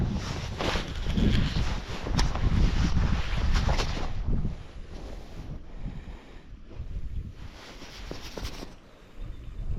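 Wind gusts buffet the microphone on a lake shore beside a boat, a broad rushing roar that is strongest early, then eases into softer, uneven gusting; close and with no talk.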